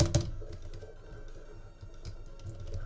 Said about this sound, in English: all the audience can hear is the clickety-clack of your lovely little keyboard